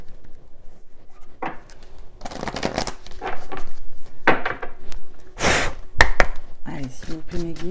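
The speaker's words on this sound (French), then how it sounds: "Je vais encore un peu brasser le jeu." A deck of oracle cards is shuffled by hand in a series of quick riffling and slapping bursts, close and crisp, with a voice speaking softly in places.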